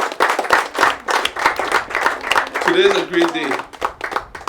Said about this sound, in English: I want to give the people of Virgin Gorda a round of applause.